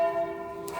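Church bells ringing, a sustained metallic tone with steady humming overtones lingering at moderate distance, brief and fairly faint.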